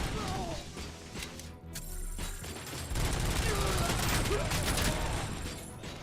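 Gunfire in the video game RoboCop: Rogue City, dense shooting and mechanical clatter filling a busy mix, with a voice talking over parts of it.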